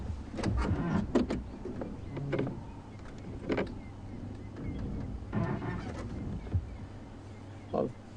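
Woodland kingfishers calling at sunrise on an African safari drive: scattered short, sharp bird calls and trills over a low vehicle hum, some fairly near, others fainter.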